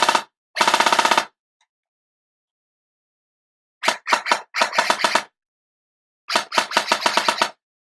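A Classic Army Skirmish Line airsoft rifle with a MOSFET, upgraded motor and 11.1 V battery fires loud, close bursts: a quick short burst, a longer full-auto string, a long pause, then several rapid bursts and another sustained rattling string.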